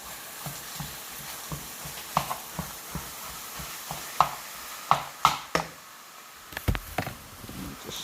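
Ground meat sizzles in a pan with salt, garlic and diced onion while it browns, a steady low hiss under sharp scrapes and taps from stirring. The stirring grows busier toward the end.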